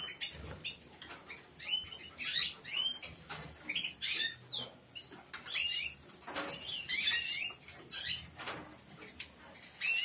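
Small cage birds chirping in short, high, scattered bursts, fairly quiet and close, with light rustling and fluttering between calls and no talking.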